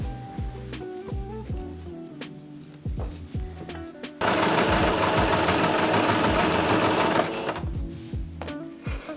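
A sewing machine stitches cosplay costume panels at close range. It starts with short, uneven bursts of stitching, then runs in one loud, steady rapid buzz for about three seconds before it slows again.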